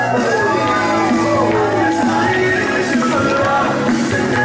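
A large wrestling crowd at a live event shouts and yells continuously, a dense, loud roar of voices that stays steady throughout with no pauses.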